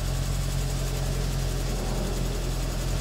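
The small engine of a Datsun 1000 idles steadily with a low, even rumble and slight vibration while the car is put into first gear. There is no talking.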